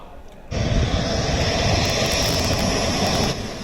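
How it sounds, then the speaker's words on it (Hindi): A Rafale fighter jet's engine roars in with a sudden onset and holds a loud, steady broadband rumble and whine for several seconds before easing slightly, with no speech over it. "कई साल के इंतजार के बाद आखिरकार राफेल विमान भारत पहुंच चुका है।"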